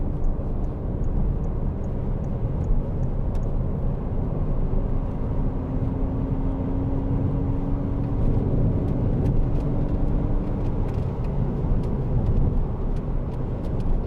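A 2012 Citroen DS3 1.6 e-HDi Airdream DStyle Plus three-door hatchback accelerating, heard from inside the cabin as a steady, even engine and road drone, with a faint tone that rises slightly midway and no talking.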